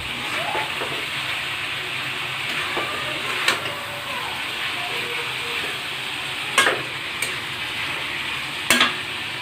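Onion paste masala being stirred in a pan for chicken korma, with a constant close sizzle and repeated scraping stirs, marked by several sharp knocks of the spoon against the pan.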